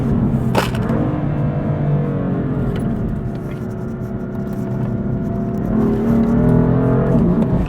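A BMW F82 M4 with MSS and Evolve dampers and 2FORGE ZF8 wheels is driven with traction control off on a damp, tight, bumpy back road. Its engine drones steadily from inside the cabin, and a low rumble swells as it pulls harder near the end.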